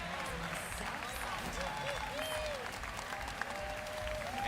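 Crowd at a fighting game tournament applauding and cheering, a steady wash of clapping throughout with commentators talking over it.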